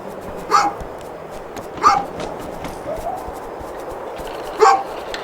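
A dog in the video game A Juggler's Tale gives three sharp, separate barks spaced a couple of seconds apart, loud and close over a quiet village ambience.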